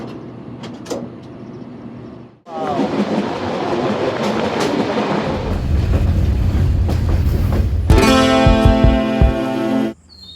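A train between Khulna and Rajshahi: loud, continuous rumble and rattling of carriages on the rails, with a sharp change partway and a harsher metallic stretch near the end, no talking.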